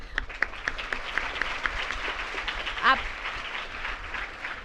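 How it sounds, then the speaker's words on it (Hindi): Audience clapping at a school lecture, fairly faint scattered applause with individual claps audible and a brief louder burst midway. "उसके लिए मैं अपनी ओर से ताली बजाना चाहूँगी"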